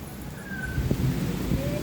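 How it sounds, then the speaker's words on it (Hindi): Heavy rain pours down outdoors in a continuous broad hiss, steady and moderately loud throughout, with a faint voice in the background. "देख रहे पूरा इतना जोर से बारिश आ गया"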